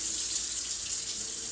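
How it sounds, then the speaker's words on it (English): Tap water pouring steadily into a baking pan half-filled for stuffed bell peppers, a continuous close hissing rush with no talk. "you have to fill your pan like halfway with water"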